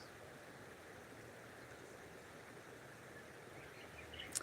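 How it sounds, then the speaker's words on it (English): Steady broadband rush of the Holston River flowing nearby at Laurel Run Park, a continuous soft wash of water running alone without voices, with a faint brief chirp near the end. "Can you guys hear the water?"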